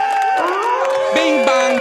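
A soundboard effect plays loud crowd cheering with whoops and shouts, filling the whole short burst at steady volume without pause.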